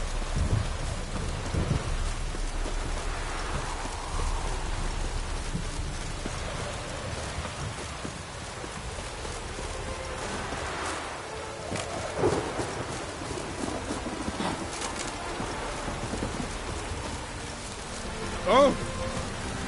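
Steady downpour in The Witcher 3, a dense close wash of rain with low rolling thunder rumbling underneath and a sharper crack near the end, heard alone without talk.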